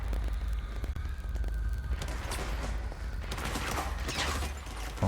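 Video-game gunfire in a sparse firefight, bursts of distant shots and rattling volleys crackling over a rumbling low background, growing busier toward the end, with no voices.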